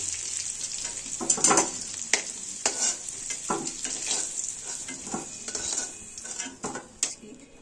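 Potato pieces fry in hot oil in a pan under a steady frying hiss, punctuated by repeated scraping and clinking of a utensil stirring against metal.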